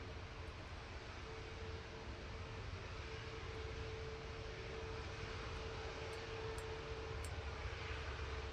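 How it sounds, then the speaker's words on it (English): A Cessna Citation business jet departs Manchester Airport bound for Paris, its engines a steady, broad distant roar holding level throughout with no talking. "Bizjet's nice looking Bizjet, this one actually. Cessna Citation."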